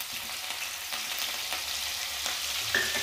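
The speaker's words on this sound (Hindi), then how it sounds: "तेल को अच्छे से गर्म कर लिया है। अब डालेंगे यहाँ पे लहसुन की कलियाँ 10 से 15" Chopped garlic cloves and green chillies fry in well-heated oil with a dense, constant sizzle and light stirring scrapes, close and fairly loud, no talk.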